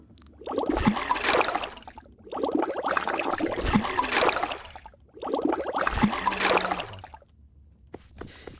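Water splashing and trickling as a dirty plate is washed in the medieval tavern-management game Ale & Tale Tavern, three bursts of running, sloshing water separated by brief pauses, fairly close and with no speech.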